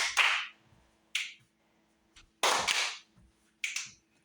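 Alternating claps and finger snaps from a clap-snap fitness exercise ring out close and crisp, five sharp strikes in an uneven rhythm separated by short silences.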